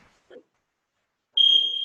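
Round timer buzzer sounding during a Brazilian jiu-jitsu fundamentals drill: a single steady electronic tone of about half a second, loud and alone after a brief faint thump.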